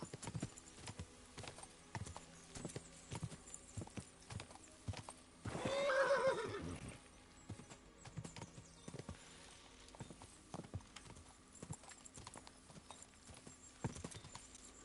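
Horse hooves in the video game Kingdom Come Deliverance 2 clop steadily along a forest path, with a loud whinny breaking in midway before the rhythmic hoofbeats continue.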